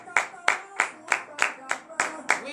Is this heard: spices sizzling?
no